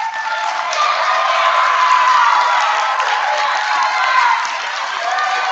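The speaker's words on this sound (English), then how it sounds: "I think all of our contestants deserve another round of applause." Fifth- and sixth-grade audience at a school spelling bee clapping and cheering, a continuous, lively wash of applause with shouts and whoops, sounding thin and band-limited.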